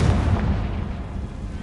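A Confringo fire spell explodes in Hogwarts Legacy with a short, muffled boom and rumbling decay, fairly soft and brief with nothing else around it.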